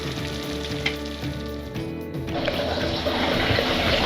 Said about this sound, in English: add water based upon how much gravy you need